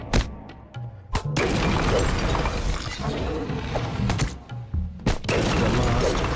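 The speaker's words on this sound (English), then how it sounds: "The last crystal shatters, the hum of power slowly fades into a heavy silence." Power crystals shattering in Dungeons & Dragons Online, with sharp cracks and thuds breaking through a dense, loud rumble of game effects, several distinct impacts spread across the stretch.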